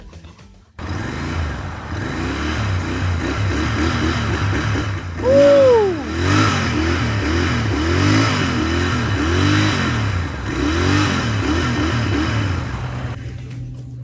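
A Royal Enfield Interceptor 650 idles close by with a deep, lumpy exhaust beat, then blips its throttle in a sharp rev that rises and falls before it settles back to a steady burble; a voice whoops once.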